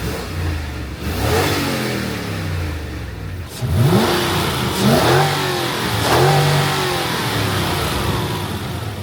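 A high-mileage Lexus GX470 with about 300,000 miles revs up and settles back in several clear pulls. The engine is loud and close, with a steady running note between the revs.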